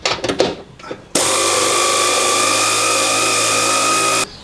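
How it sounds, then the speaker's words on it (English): Air ratchet spinning rusted nuts loose on a van, a brief clatter of handling, then one sustained loud pneumatic whir lasting about three seconds before it cuts off abruptly. "I'm going to try using the air ratchet now that it's broken loose"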